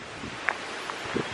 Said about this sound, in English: it's so windy outside right now